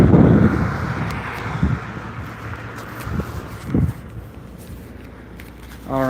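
Wind buffeting a microphone outdoors during street activism, loud low rumbling gusts at the start easing into a steadier wash with a few thumps, and a voice breaking in at the end.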